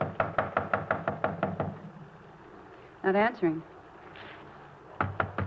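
Police officers pound on a door in two rapid bursts of firm, evenly spaced knocks, loud and close, with someone speaking briefly between them.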